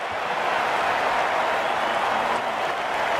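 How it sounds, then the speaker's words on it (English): A crowd cheers and applauds in the cricket video game Ashes Cricket 19, a dense, steady roar of clapping and cheering that holds at full volume with no pauses. "The crowd on their feet."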